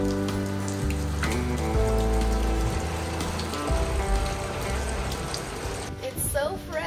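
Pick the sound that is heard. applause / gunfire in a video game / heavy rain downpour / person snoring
heavy rain downpour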